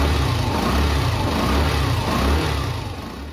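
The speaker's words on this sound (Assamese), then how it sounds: "আমি প্ৰথমে বাইকখন 2 বা 3 মিনিট ষ্টাৰ্ট কৰি ইঞ্জিনটো গৰম কৰি ল'ব লাগিব।" A motorbike engine runs steadily to warm up before an oil change, a loud, even mechanical drone close by that eases off slightly at the end.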